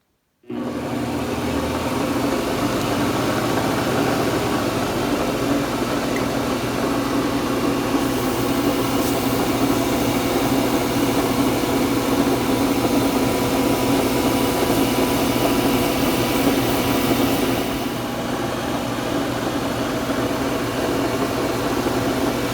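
A wood lathe spins steadily while purple heart is sanded at 600 grit, a continuous motor hum and whir with a faint hiss of abrasive, starting abruptly and holding even for the length, quieter toward the end.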